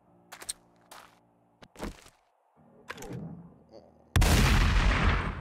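Gunshots from a gun in the video game 7 Days to Die: several sharp separate cracks, then a heavy sustained loud blast that fills the end, with no talking.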